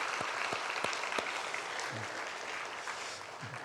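A church congregation applauds the young people at an afternoon praise service, steady mid-distance clapping from many hands that fills the room without a break.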